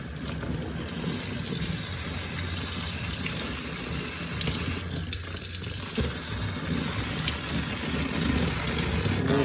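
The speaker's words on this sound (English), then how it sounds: "Just go ahead and rinse it off." Water running steadily over a Hutch Windstyler BMX bike brake caliper during rinsing, a constant broadband splashing rush with no pauses.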